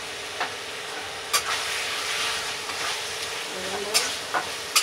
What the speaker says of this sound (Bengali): একটু নেড়ে চেড়ে ফের জল দেবো।